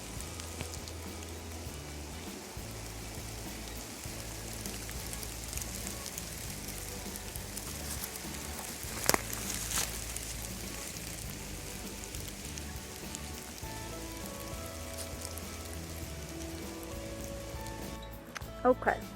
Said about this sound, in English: I just started raining harder. It might even be hailing a little bit.